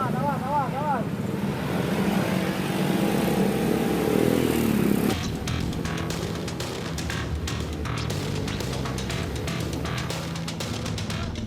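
Motorcycles with loud exhausts rev and rumble nearby amid street noise, engines droning steadily with crackling bursts, voices murmuring underneath.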